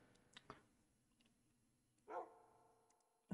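A dog in the Minecraft video game gives a few short barks, two brief yips near the start, another after a pause and one more at the end, clean and isolated with silence between.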